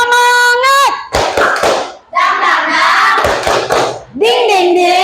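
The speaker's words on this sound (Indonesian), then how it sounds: "kita bertepuk semangat dulu." Children's rhythmic clapping chant called tepuk semangat in a classroom, with sharp hand claps and taps in patterned bursts between sung and chanted children's voices.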